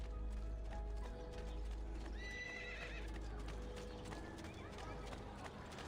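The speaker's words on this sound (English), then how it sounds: "I don't know why I hopped on that horse." A horse in the video game Assassin's Creed 2 gives a loud whinny amid steady clip-clop hoofbeats of galloping, over a low background hum.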